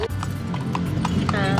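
Horse hooves clip-clopping at a steady, even pace on a horse-drawn carriage ride through the streets of Vigan, with people talking over it throughout.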